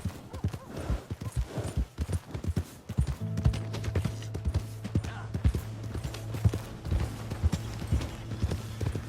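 Rhythmic horse hooves clip-clop steadily over a low, sustained drone in Red Dead Redemption 2, with a few scattered voices and clatter early on.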